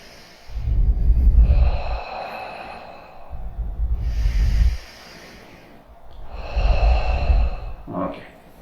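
Slow, deep breaths during a relaxation breathing exercise, three long loud inhale-exhale cycles close to the microphone, ending with a brief voiced sound.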